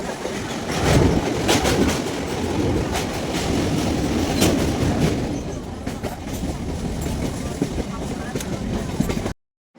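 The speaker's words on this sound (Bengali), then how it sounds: "এবারে আমাদের ট্রেনে চলে এসেছে আর আমরা ট্রেনে চেপেও গেছি ট্রেনটা একদমই ফাঁকা ছিল" A nearly empty local train to Bakkhali rolls steadily along the rails with continuous rumble and rhythmic clatter, loud and close throughout, ending abruptly in silence.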